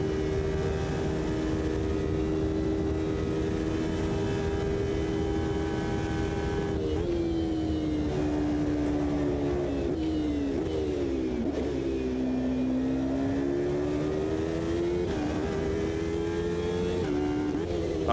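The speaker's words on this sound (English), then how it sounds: "I can let it rev a lot higher." A pickup truck engine drones and revs in Automobilista 2 online multiplayer racing, a steady loud tone holding at first, then dipping and climbing through gear changes and throttle lifts with no talk over it.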